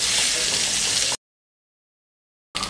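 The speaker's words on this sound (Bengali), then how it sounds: "এবারে আমি লবণ আর হলুদ মাখিয়ে রাখা কাঁকরোলগুলো তেলের মধ্যে দিয়ে দিচ্ছি।" Salted pointed gourds coated in turmeric fry in hot oil with a steady close sizzle, which cuts out abruptly into silence and then resumes briefly at the end.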